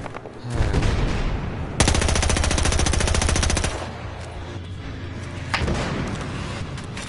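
Automatic gunfire in Battlefield Hardline rattles in a loud, rapid sustained burst of about two seconds, preceded and followed by shorter shots and thuds, close and harsh.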